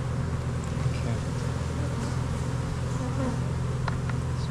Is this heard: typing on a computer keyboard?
no